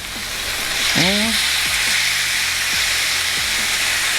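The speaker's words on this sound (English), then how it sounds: "start frying it up." Chicken pieces fry in a pan for street tacos with a loud, steady sizzle throughout, while brief rising tonal squeaks and scraping strokes from a utensil sound near the start.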